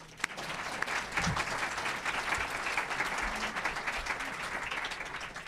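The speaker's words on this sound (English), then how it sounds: "Our new District 4 councilors are Olivia Clark, Mitch Green, and Eric Zimmerman. You may applaud" An audience at a city council event applauds new District 4 councilors, with steady, moderately distant clapping spread evenly across the room for several seconds.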